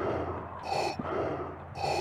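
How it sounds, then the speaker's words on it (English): Darth Vader's respirator breathing from a Star Wars animation, heard alone as two slow mechanical breath cycles, each a rasping, hissing inhale or exhale at steady moderate loudness. "This is the audio recording of Vader breathing right now."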